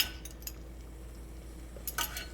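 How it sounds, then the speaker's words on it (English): Utensil scraping and clinking against a pot while a melting candy mixture is stirred, with faint metallic ticks near the start and a brighter cluster toward the end over a low steady hum. "So you just want to stir that together until it's nice and melted and smooth."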